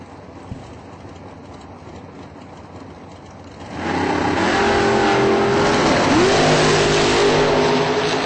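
Quiet background with a small click gives way to a sudden loud, sustained engine roar as a Mustang drag car launches and accelerates down the drag strip, the pitch shifting upward midway.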